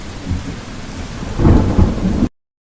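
Heavy rain with rolling thunder, a steady downpour under a deep rumble that builds to a louder crack near the middle before the sound cuts off abruptly, with no voices.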